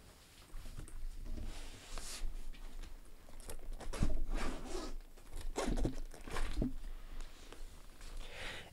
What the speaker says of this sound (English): all I have to do is unzip the front zipper